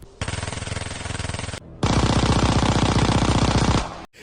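Thompson M1928 submachine gun firing in Call of Duty WW2 zombies, two sustained bursts of rapid full-auto fire, a short one then a longer one about two seconds, loud and close with a brief pause between.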